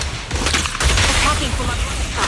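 Gunfire in the Zenless Zone Zero video game, a dense rattling burst of shots with a heavy low thump near the start, loud and close, blended with game sound effects.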